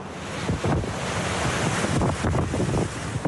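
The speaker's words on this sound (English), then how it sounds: "a lone swimmer braves the pounding waves at Margaret River's Narrabut Beach" Heavy pounding surf at Narrabut Beach in Margaret River breaks in loud, continuous roaring washes, with strong wind buffeting the microphone and no voices.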